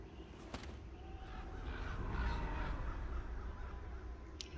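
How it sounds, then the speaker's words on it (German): A raven caws in the video game Life is Strange Before the Storm, giving a few harsh, rasping calls over a low, steady ambient background, moderately near and not loud. "Und schon wieder der Rabe."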